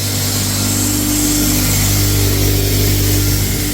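Steady, loud grinding drone of a hammer mill with hammers swinging inside a screen, crushing animal feed into small pieces, a continuous mechanical roar with no talking.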